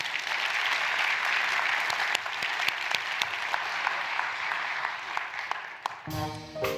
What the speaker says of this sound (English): give one more round of applause to our band